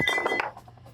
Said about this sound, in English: with hitting it with a hammer